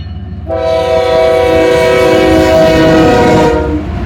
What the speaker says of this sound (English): Northbound here at Deshler. Mixed freight,